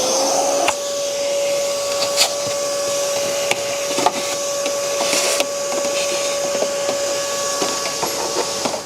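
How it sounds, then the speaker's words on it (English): A vacuum cleaner runs steadily and loudly with a constant whine, cleaning leaves from a BMW 6 Series engine bay, with occasional clicks and knocks as debris is sucked up; nobody speaks. "Just going to give this area a good vacuum out."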